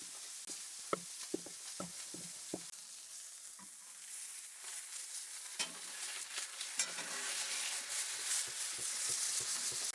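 Steaks sizzle in a frying pan, a steady hiss that grows louder and fuller toward the end, with a few sharp taps and clinks of utensils early on.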